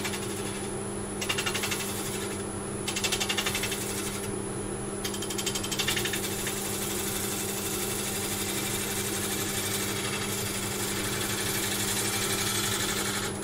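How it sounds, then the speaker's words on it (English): A wood lathe spins African Blackwood, giving off a steady mechanical hum and whir with bursts of scraping chatter where the tool meets the wood, close and continuous. "turn the lathe on"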